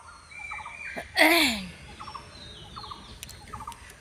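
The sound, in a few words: birds calling by a river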